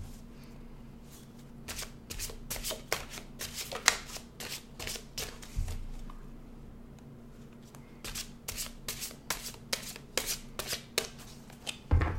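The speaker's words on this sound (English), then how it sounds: "2 more shuffles." Tarot cards being shuffled repeatedly, a long run of crisp riffling bursts and slaps over a low steady hum, close by with no talking.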